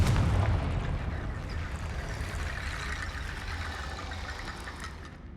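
A Confringo spell goes off in Hogwarts Legacy as a loud, booming blast that rumbles and slowly fades over several seconds.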